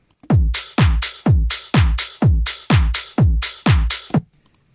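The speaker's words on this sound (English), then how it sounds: "And then all together, the drum sounds like this." Layered drum and percussion loops with the bottom end EQ'd out play together, heard as a steady groove of punchy, pitch-dropping hits with bright noisy tops, about two per second, loud and alone.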